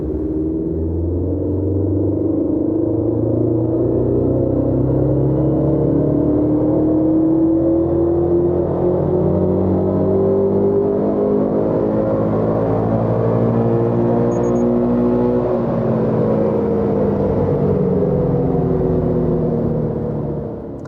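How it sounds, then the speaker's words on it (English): A 2022 Subaru BRZ engine running on flex fuel revs hard through a sustained power pull, its loud, steady drone climbing in pitch with no talking over it. "what we're gonna do is take a data log and do a power pull here"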